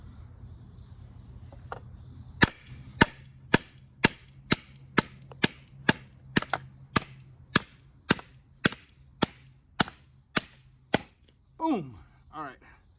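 A Bowie knife chopping through wooden logs, sharp loud woody strikes landing about every half second in a steady rhythm, roughly eighteen in a row, followed by a short rustle at the end.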